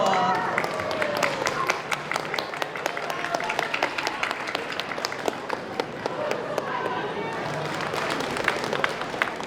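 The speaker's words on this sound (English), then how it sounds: "another round of applause for Tucson Japanese School" Audience applause at the 2025 Tucson Japanese Festival main stage for the Tucson Japanese School, a sustained dense patter of many hands clapping with scattered sharper claps and crowd voices mixed in throughout.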